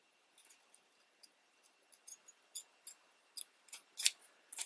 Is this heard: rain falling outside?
no